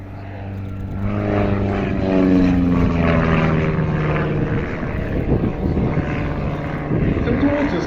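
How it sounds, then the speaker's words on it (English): A lightweight Pitts aerobatic biplane with a 180 hp Lycoming engine performs a smoke display at East Kirkby airshow, its propeller drone rising and falling as it passes, while an announcer talks over it. "It's a very lightweight aircraft, and with this very effective smoke system it puts on a terrific little display."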